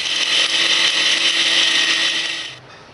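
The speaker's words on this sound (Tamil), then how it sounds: "வறுத்து வச்ச இன்க்ரீடியன்ஸோட தேங்காய் துருவல் சேர்த்து மிக்சியில் நல்லா நைஸாக அரைச்சிக்கணும்" A kitchen mixer grinder blends roasted ingredients and grated coconut into a fine paste for pepper pitla, giving a loud, close, high-pitched whir for about two and a half seconds before it cuts off.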